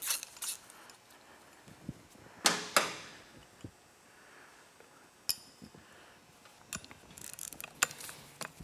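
A ratchet with a 14 mm socket works the rear sprocket bolts on a Kawasaki KLX 110 motorcycle, giving close, sharp clicking bursts and metallic clinks scattered through quiet pauses.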